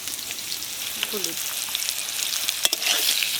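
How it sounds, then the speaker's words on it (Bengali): Potatoes frying in a pan with salt and turmeric, giving a steady close sizzle throughout with a few brief stirring clicks and scrapes. "নুন আর হলুদ দিয়ে আলুটা ভেজে নেব ভালো করে"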